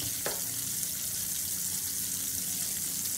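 A sweet potato burger patty hits a hot frying pan, giving a brief soft thud followed by loud, continuous close sizzling of oil.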